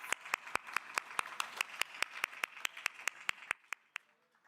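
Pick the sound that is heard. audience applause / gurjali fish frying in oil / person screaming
audience applause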